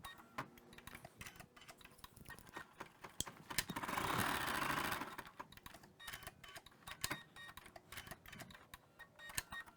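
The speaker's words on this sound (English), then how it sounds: "I'm going to stitch the next color stop, which is going to stitch the 3 little flower petals." An embroidery machine stitches three small flower petals in Isacord 704 thread, a quiet, rapid mechanical ticking and needle chatter that runs steadily, with a brief louder whirring surge midway.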